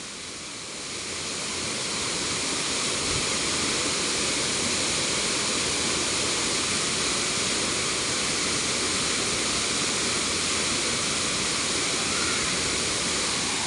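Mosokbusok Falls in Carigara, Leyte pours down in a loud, constant roar of falling water that swells in over the first second and then holds steady and close, with no voices.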